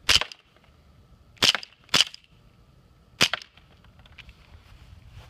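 An Elite Force 1911 airsoft pistol firing four sharp, snappy shots at uneven intervals, loud and close with quiet pauses between them.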